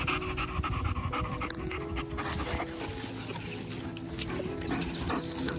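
Several dogs pant rapidly and heavily during a hand-feeding socialization session outdoors, overlapping breaths close by with jingling tags and small movement noises throughout.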